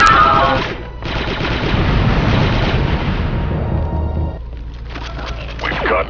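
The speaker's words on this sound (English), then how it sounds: "Grenade thrown." Loud gunfire and explosive blasts in the Star Wars Republic Commando video game, with dense rapid shots, a heavy rumbling burst and crackling debris, plus a brief voice beneath the noise.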